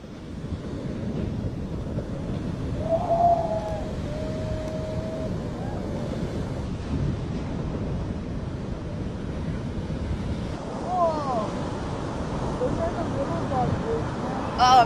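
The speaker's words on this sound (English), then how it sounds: "Look at these waves rolling in San Diego." Ocean waves roll in at San Diego as a broad continuous low rumble and wash, with heavy wind buffeting the microphone and a few faint calls over the top.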